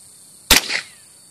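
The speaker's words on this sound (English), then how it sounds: "Taking JT's first shots here off the 1022." A single sharp crack from a Ruger 10/22 rifle fired at an orange target outdoors, close and loud, with a brief echo trailing off in under half a second.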